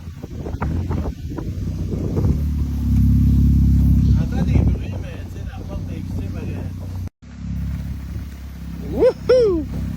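A homemade supercar body built on a donor car drives by with a deep engine rumble that swells and revs, mixed with heavy wind buffeting on the microphone, a brief dropout, and a voice calling out near the end.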